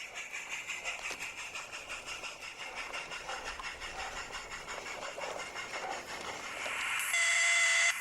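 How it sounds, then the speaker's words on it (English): A model railway goods train pulls out of a small station, giving a faint, steady mechanical hiss and rattle that builds slightly toward the end. "the goods now departs Bickerton station and starts its return journey back up the line"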